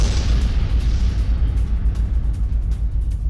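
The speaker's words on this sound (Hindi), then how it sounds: "रूसी सेना के कॉम्प्लेक्स को उड़ा दिया गया।" A heavy explosion strikes a Russian army complex in Donbass, a loud deep rumbling boom that rolls on steadily with low-end roar and scattered crackles.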